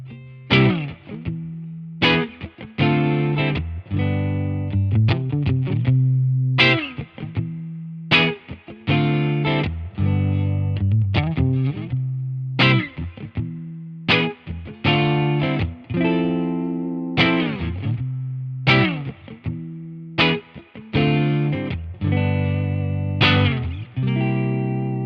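A clean electric guitar, a Fender American Professional Classic Jaguar on its neck pickup, plays a slow series of picked notes and chords, each ringing out warmly before the next, with no other sounds.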